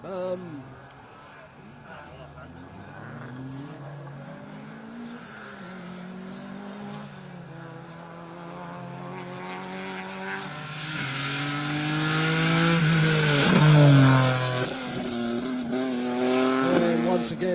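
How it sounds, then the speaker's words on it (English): A BMW E81 1 Series rally car runs a special stage at a rally, its engine climbing through rising revs and gear changes as it approaches, growing louder and closer, with a commentator talking over it. "that was Kundavala's BMW 1 Series, called officially a BMW E81 on the program"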